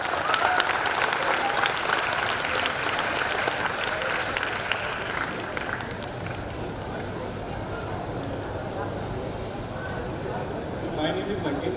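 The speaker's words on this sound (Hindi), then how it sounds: "एक बार इनके लिए जोरदार तालियां." Loud, sustained applause from a school audience at a motivational talk, a dense wash of clapping that carries on steadily for the whole stretch with only a slight dip midway.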